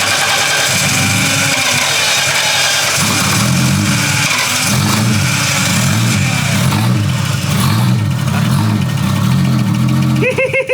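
A Nissan RB30E+T turbo engine cranks over for its first start, with a loud, uneven churning of the starter and engine close up and a few voices underneath.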